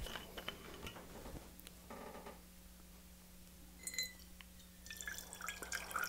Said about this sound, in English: So 2 ounces of tequila.